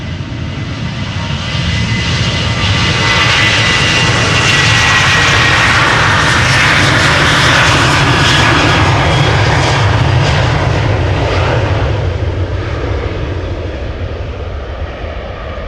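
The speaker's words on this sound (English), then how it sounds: "Right now, after this departure, it is time for a 777-200 Kilo." A Boeing 777-200 airliner departs Amsterdam Schiphol close by. Its loud jet roar swells within the first two seconds, holds a powerful rumble with a hissing top, then slowly fades away, with no voices.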